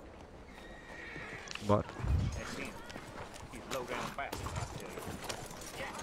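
A horse neighs and its hooves clip-clop close by, with a loud whinny and heavy steps among scuffing noise, while a voice speaks over it.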